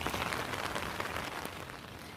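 Steady rain patters on a backyard campsite, a dense, even hiss of drops close by with no voices.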